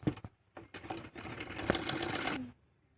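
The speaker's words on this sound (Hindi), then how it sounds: "अब इसे खोल के दबाने वाली सिलाई लगा लेंगे ताकि ये अच्छे से पक्का हो सके।" A sewing machine stitches a seam on a salwar, opening with a few short taps before a steady close whirring run of about two seconds, heard alone.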